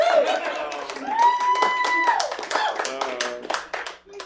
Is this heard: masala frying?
no